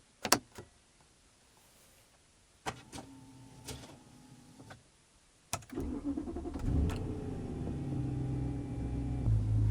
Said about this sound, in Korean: 그러면 일단 시동 먼저 좀 걸어보도록 하겠습니다